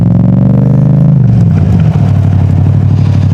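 A Yamaha MT-07 motorcycle engine revs up close in first gear in a small car park, a steady throbbing idle rising then settling into a busy, loud rumble with clattering mechanical texture.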